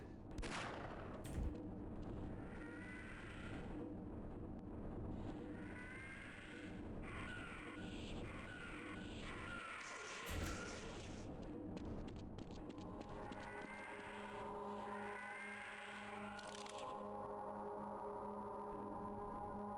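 Video game gunfire from Half-Life on hard difficulty, with bursts of rapid weapon fire and explosive blasts over a continuous droning background of game sound, fairly loud and dense throughout.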